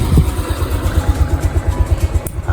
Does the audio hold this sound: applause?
no